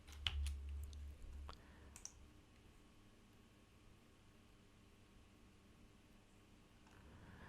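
Faint clicks of typing on a computer keyboard come in a few quick, scattered taps near the start over a quiet background hiss, then fade to near silence.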